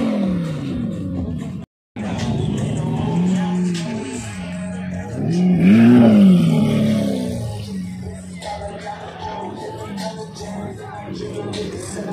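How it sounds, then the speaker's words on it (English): A Lamborghini Huracan fitted with a new Navitec exhaust revs at an underground car meet in India. A deep engine roar swells loudly to a peak near the middle, then settles, with voices around it. "Lamborghini Huracan, the new Navitec exhaust, only one in Asia out there"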